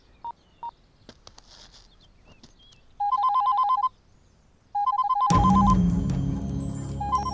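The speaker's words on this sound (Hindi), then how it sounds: "इस वक्त स्वाति का फोन, कुछ काम होगा।" A telephone rings in a Hindi comedy film scene. A few dial-tone style beeps come first, followed by two ringing bursts and a sudden louder wash of sound.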